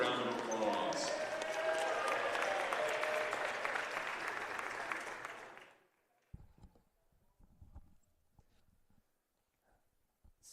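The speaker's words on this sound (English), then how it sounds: "let's give our men's basketball senior class another round of applause" Crowd in a college basketball gym applauding the men's senior class, dense clapping for about six seconds that cuts off abruptly, followed by sparse thuds and quiet.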